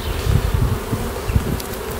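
Agitated Primorska Buckfast honey bees, a VSH strain, swarm inside an open hive during an inspection, their dense buzzing close and steady with small swells in loudness.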